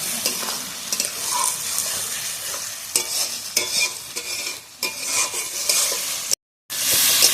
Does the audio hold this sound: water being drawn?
no